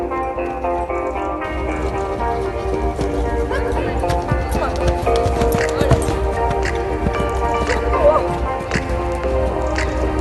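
Hooves of a horse being lunged at the canter during a riding course, a rhythmic run of soft thuds and clops under a continuous layer of background sound and speech.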